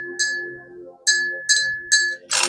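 A small hand bell rings four times, each strike a bright clear ding with a lingering tone, the first left to decay longest and the rest struck in quicker succession, ending in a noisy rattle.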